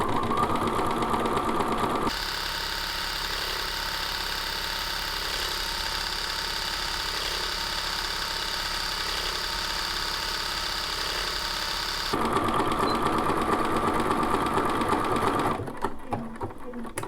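A Bernina sewing machine fitted with a tailor tack foot stitches steadily at a close, even whir, pausing briefly before running again; a voice talks over the start and end.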